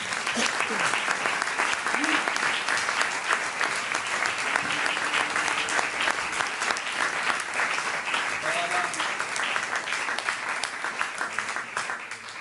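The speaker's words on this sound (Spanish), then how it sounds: "Dele un fuerte aplauso a Cristo Jesús" A church congregation at a Saturday revival service breaks into loud, sustained applause, dense and steady throughout, with voices cheering faintly within it.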